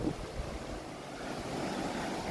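Beach surf heard from a resort balcony in Jayapura, a soft steady wash of waves with some wind noise, fairly faint and without voices.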